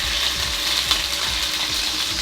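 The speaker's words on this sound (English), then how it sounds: "So it's sizzling now, so it's sort of frying" Meat fries in a pot for plov at a Chicago food truck, a continuous close sizzling hiss with faint rhythmic clicks and scrapes running underneath.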